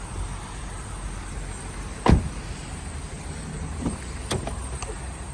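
A Renault Megane 3 with the 1.5 dCi 81 kW diesel engine idles smoothly, a steady low rumble broken by a few brief clicks and mechanical whooshes.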